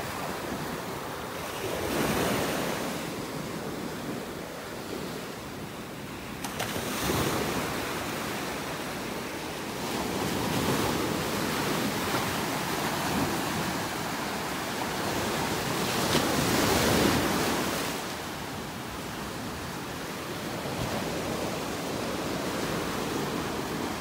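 Ocean surf rolls onto a beach in North Naples, Florida, with repeated swells of breaking waves rising and fading over steady wind noise, fairly loud and close, with no talking.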